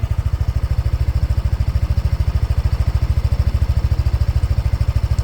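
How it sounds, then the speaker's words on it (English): A Yamaha Aerox scooter engine idles close by with a steady, rapid low putter, constant and even throughout, no voices. "you can hear the engine sound"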